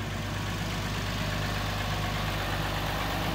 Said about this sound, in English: 3500 Cummins turbo diesel engine